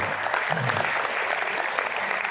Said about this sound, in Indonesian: Tepuk tangan dulu untuk Malaysia dan Thailand